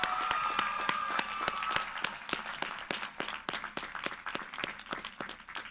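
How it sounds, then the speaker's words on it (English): Audience applause for graduates at a college commencement ceremony, a dense steady clatter of many hands that gradually thins and fades over several seconds, with a brief tonal sound early on. "one final round of applause for our graduates"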